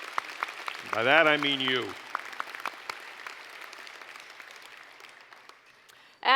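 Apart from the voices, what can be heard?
awards audience applause for supporters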